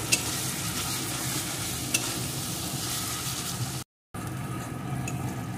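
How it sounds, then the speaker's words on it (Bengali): Spice masala, salted, is stir-fried in a pan for a soybean-in-milk dish. A continuous close hiss of frying carries throughout, broken by a brief silent gap near the end. "এখন আমি সমস্ত মশলাটা ভালো করে বেশ কিছুক্ষণ কষিয়ে নেব"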